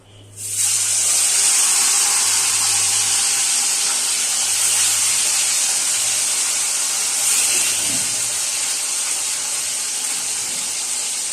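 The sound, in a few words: katla fish frying in oil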